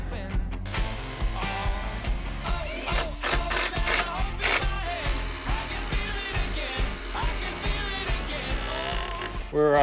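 Impact driver sinking 3-inch Tapcon concrete screws through a 2x4 into concrete for a stem wall form, heard as loud rattling ratchet-like bursts with short pauses, close up, over a busy jobsite background.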